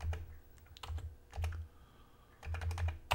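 Quick bursts of keyboard typing to search a Commodore 64 cartridge menu on an NTSC Kung Fu cartridge, a few clusters of close key clacks separated by short pauses, moderately quiet, with no talking.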